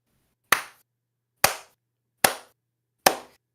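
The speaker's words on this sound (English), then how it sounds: "A slow clap for you, sir." Four single, sharp hand claps spaced slowly and evenly, each a crisp close smack with a short decay, separated by silence.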